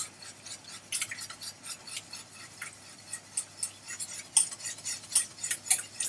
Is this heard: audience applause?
no